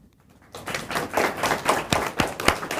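A lecturer at a research presentation claps his own hands, a run of sharp close claps in an uneven rhythm after a quiet start, with no talk over them.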